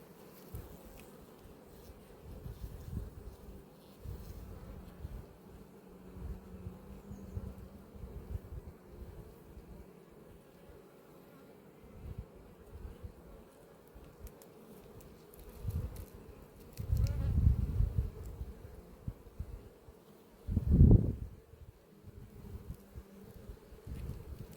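Honey bees buzz steadily around an apiary hive, a close, continuous drone that swells louder toward the end with a few brief nearby surges.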